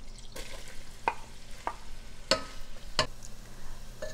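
A large chopped onion sizzles in hot butter and ghee with a soft, steady crackle, broken by several sharp clacks of a spoon stirring against the pan.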